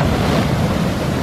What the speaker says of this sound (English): it's an Intamin water coaster